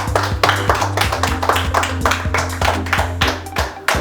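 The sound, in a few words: round of applause at award celebration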